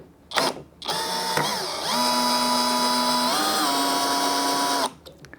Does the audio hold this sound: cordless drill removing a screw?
yes